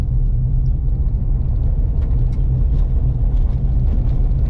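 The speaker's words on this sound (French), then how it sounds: "Une autre niveleuse." Heavy, steady engine rumble with a deep low drone from a road grader moving along a dirt road under construction in Rio Grande do Sul, Brazil, loud and continuous without any break.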